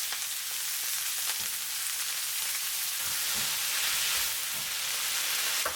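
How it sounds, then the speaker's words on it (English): Onion and napa cabbage stir-frying in a pan for shrimp udon, giving a steady, close sizzle with faint scraping stirs throughout, no voices. "Add the napa cabbage. Stir for 2 minutes."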